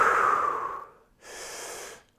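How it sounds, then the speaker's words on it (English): Deep belly breathing shown as a demonstration: one long, loud breath for about a second, a short pause, then a second breath that is softer and airier. Both are close up, and no one speaks. "we need to focus on belly breathing"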